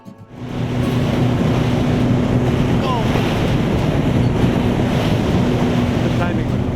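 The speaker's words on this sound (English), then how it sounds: "wave after wave after wave are coming over, and I mean, it is so nasty." Waves crashing over a small fishing boat on a rough Irish lake during pike fishing: a loud, continuous roar of wind and churning water, steady throughout, with heavy wind buffeting.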